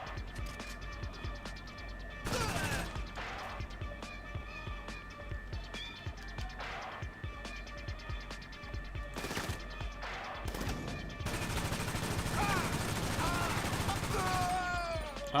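Bursts of gunfire in the MindsEye video game crack out in short volleys early on, then swell into a sustained, dense barrage near the end, layered over steady tonal game music and effects.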